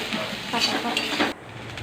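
Okra (bhindi) fries in a pan with chilli added, giving a steady close sizzle with light stirring and utensil clinks that drop away near the end.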